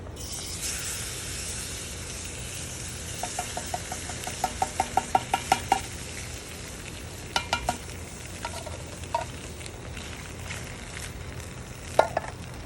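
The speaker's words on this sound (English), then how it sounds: "It's sizzling already." Steady close sizzling hiss of food frying over a campfire, with scattered light clicks and taps from stirring or utensils, no voices.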